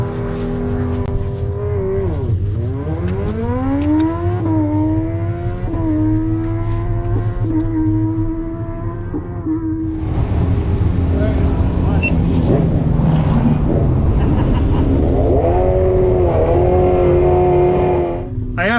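Tesla Model X Plaid SUV launching down a drag strip, a loud rising electric whine that sweeps upward in pitch, followed by a louder, rougher stretch of wind and motor roar, close and continuous.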